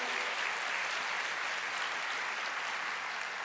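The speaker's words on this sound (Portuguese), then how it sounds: "Vamos aplaudir ao Senhor." Steady, dense applause from a church congregation fills the space throughout, an even wash of many hands clapping together with no break.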